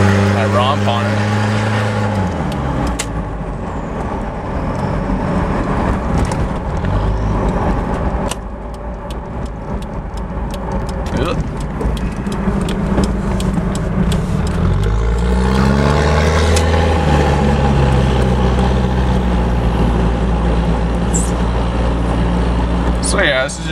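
Toyota Hilux Surf SSR-X with a 3.0 diesel and side exhaust heard from inside with the window down, the engine droning and swelling as it pulls through gears, with someone talking over it.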